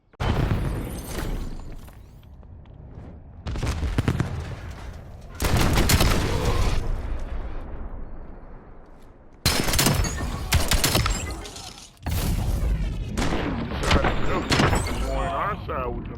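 Shotgun blasts in the shooter Black Ops 7, a gold Akita shotgun, come as several loud, separate bursts of gunfire with sharp onsets, while game sounds and voices carry on between shots.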